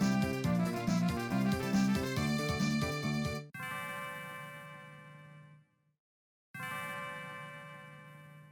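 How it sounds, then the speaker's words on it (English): Chime-like bell tones from Nadia's bell in the Chrono Trigger video game on DS: a rhythmic run of bright clanging notes, then two long ringing strikes that fade out, separated by a short silence. "It's Nadia's bell. It's beautiful."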